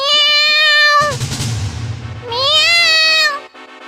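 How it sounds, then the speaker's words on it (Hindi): Two drawn-out, high cat meows in an animated children's animal story, the first loud and close, then a short rumbling pause, then a second wavering meow. "इतने में वहां पर बिल्ली आ गई"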